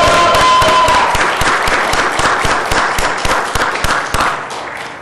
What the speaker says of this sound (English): Let's get a round of applause to kick things off this morning.